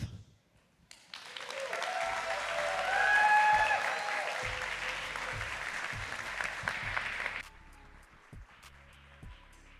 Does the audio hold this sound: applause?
yes